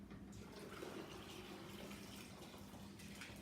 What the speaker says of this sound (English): Pour in your 3 quarts of water